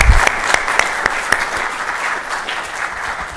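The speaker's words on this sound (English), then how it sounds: "if we could have a round of applause for Mary up there" An audience at a lecture on particle physics and AI claps in sustained, even applause. The dense patter holds steady throughout, with a few sharper individual claps standing out.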